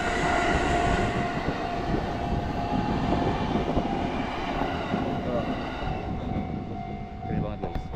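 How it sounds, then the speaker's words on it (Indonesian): A train rolling past a level crossing in Japan, a loud continuous rumble and wheel clatter close by that gradually eases toward the end. "Nah, ini keretanya."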